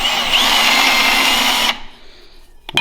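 A power drill fitted with a 3/4 inch countersink deburr bit whirs steadily and loudly while cutting a hole in a Honda Talon shock part, then stops abruptly, leaving a quiet tail and a brief knock at the end.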